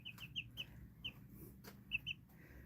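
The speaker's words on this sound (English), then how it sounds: "You silly chicken." Chicken clucks in short, repeated bursts, some paired, close by over a low background rumble.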